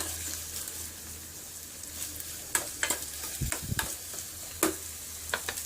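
Onion frying in oil in a pan, a steady close sizzle broken by occasional scraping stirs and clinks, with no talk.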